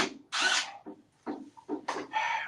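A power drill backs out a jammed drywall screw in a ceiling, giving short whirring bursts that stop and restart several times at close range, with no talking.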